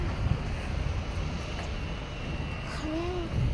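Steady broadband wind rumble buffets the microphone throughout in a park in Macau, with a faint whistle-like tone near the end and no clear talk.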